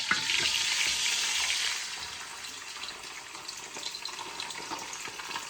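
Chopped vegetables hitting a hot pan, a loud burst of hissing sizzle at first that settles into a quieter, steady frying crackle with small pops and spits.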